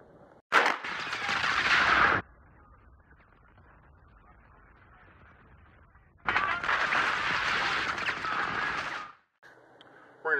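Gunfire strikes a polyethylene armor backer plate in two long, loud bursts of rapid shots, separated by several seconds of low background noise, with a brief further burst at the end.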